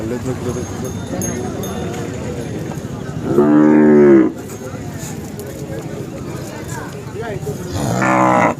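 Deep, drawn-out mooing from Khillar bulls close by at the Sangola cattle market, two long calls over a busy outdoor crowd with people talking throughout.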